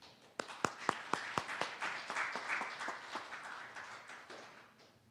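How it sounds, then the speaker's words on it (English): A few crisp claps at a campus gathering quickly swell into a softer, fuller round of audience applause that rises, holds briefly, then tapers off, faint and somewhat distant. "Great applause to Arsenij"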